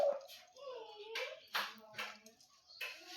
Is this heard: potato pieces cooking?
no